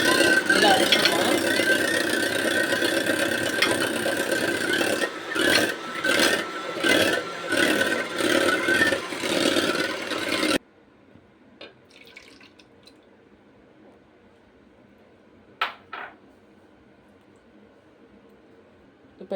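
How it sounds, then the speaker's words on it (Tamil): A mixer grinder whirs loudly as it blends eggs for cake batter, a dense buzzing roar pulsing in short bursts for about ten seconds before stopping abruptly, followed by quiet clinks and faint kitchen noise. "முட்டையை வந்து இதில் அரைச்சிக்கலாம்"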